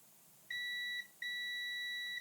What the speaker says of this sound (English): let's test them with some good old-fashioned continuity. Multimeter in continuity.